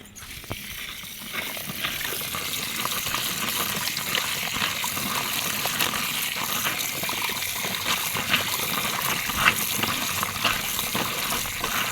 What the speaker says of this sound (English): So I'll wash my dates.